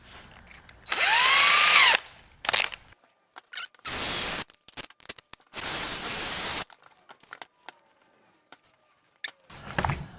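A power drill makes short and longer bursts, with a loud whirring pull around the second second and another sustained run midway, separated by quiet gaps, clicks and handling noises while a T-shirt launcher is drilled out.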